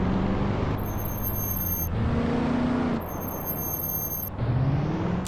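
Truck and bus air brakes in a modded GTA San Andreas release with bursts of high, sneezing hiss, heard twice over steady engine rumble, each lasting about a second.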